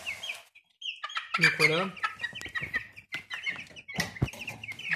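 An Orpington rooster and young chicks in a cage cluck and cheep in quick, uneven bursts, close and fairly loud, with someone speaking briefly amid the calls.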